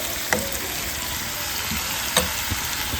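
Onion with a tomato, garlic, green chili and coriander paste frying in a pan, a steady close sizzle with a few brief clinks of stirring.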